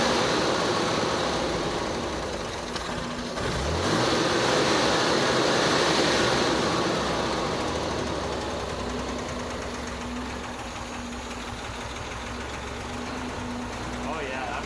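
A 1961 Corvair Lakewood engine, running after its first start in 25 years, churns and rattles steadily with a broad, noisy drone that swells slightly early on, while people talk over it.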